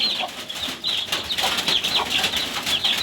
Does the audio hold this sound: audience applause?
no